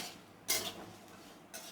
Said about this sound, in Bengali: এখন আমি এটা মশলাটা তুলে নেব